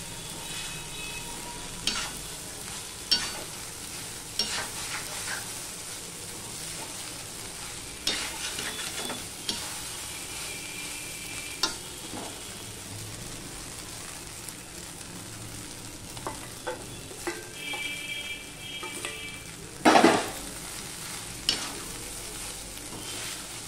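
Fried potatoes, beans and carrots stir-fried with flattened rice over a high gas flame: a continuous soft sizzle broken by sharp spatula scrapes and clatters against the pan at irregular intervals, with no talk.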